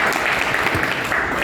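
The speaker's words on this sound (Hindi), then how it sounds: "जोरदार तालियां सुकांत जी के लिए।" A brief burst of loud, dense applause from a crowd at a business celebration and training event in Raipur, clapping for an honoured guest.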